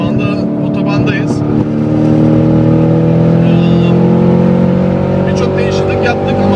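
A modified Ford Mustang Shelby GT500 cruises on a highway, its engine a steady loud drone with shifting harmonic tones and road roar throughout, while someone talks over it.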